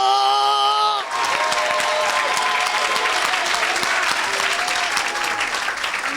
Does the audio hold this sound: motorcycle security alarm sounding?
no